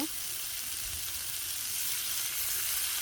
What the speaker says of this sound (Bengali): এখন আমি তেল দিয়ে দিব।